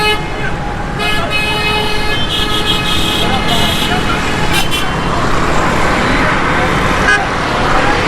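Busy city street traffic near a tower fire on Shahra-e-Faisal in Karachi, a dense roar of engines with horns tooting and siren-like tones over it, loud and constant while someone talks over it.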